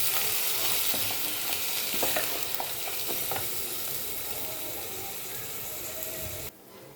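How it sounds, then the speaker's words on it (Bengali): Rice grains stirred into spices frying in a pan for jeera rice, a close sizzle broken by scraping stirs and clinks that eases near the end, then cuts off abruptly, with no speech. "এইবার এই চালটা আমি এই মশলার মধ্যে দিয়ে ভালো করে নেড়ে চেড়ে"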